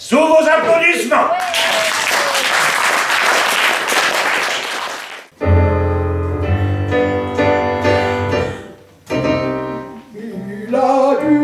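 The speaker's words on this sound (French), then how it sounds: "Sous vos applaudissements." An audience at a stage show in Saint-Germain-des-Prés breaks into loud, sustained clapping that lasts several seconds after a spoken introduction, then music begins.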